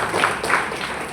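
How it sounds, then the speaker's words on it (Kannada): Audience applause at a community felicitation ceremony for SSLC and PUC students, a brief steady patter of many hands clapping at moderate volume, slightly distant and hall-like. "ಅವ್ರಿಗೊಂದು ಜೋರಾದ ಚಪ್ಪಾಳೆ."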